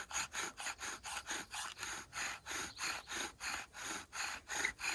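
A bow drill spindle grinds back and forth on a wooden fireboard in a regular rasping rhythm of about three strokes per second, each stroke a dry scraping swell, close and fairly quiet with no talking.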